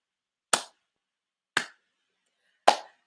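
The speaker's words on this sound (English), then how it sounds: "my slow 80s clap" Three slow, sharp hand claps spaced about a second apart, close and isolated against silence.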